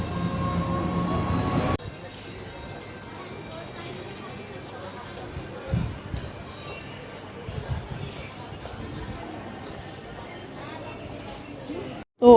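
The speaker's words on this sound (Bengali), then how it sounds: "এই যে ট্রেন ঢুকে গেছে" A train rumbles into Shyamnagar station, a low steady roar with scattered clanks and station noise, preceded by a brief burst of louder sound.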